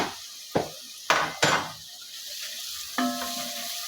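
Paprika being stirred into tomato sauce in a pan: three sharp knocks of a utensil against the pan, a quiet stretch of low sizzle, then a ringing metallic clink near the end.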